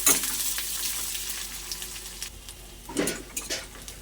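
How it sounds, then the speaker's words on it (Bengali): Onion fries in mustard oil toward reddish brown in a pan, a soft continuous sizzle with a clattering stir near the three-second mark and a few scraping knocks after, close up and unvoiced. "পেঁয়াজটাকে আমি লাল লাল করে ভেজে নেব।"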